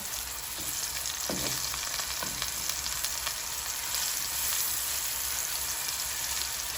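Blackened salmon and shrimp fry in a hot pan, a loud, continuous sizzle and crackle close by, with a few faint clinks early on and no talking.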